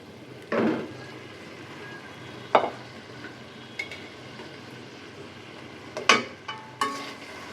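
Taro stirred into spiced mustard oil with green chilli, turmeric and salt, a low quiet sizzle under several sharp scraping stirs of a spoon against the pan.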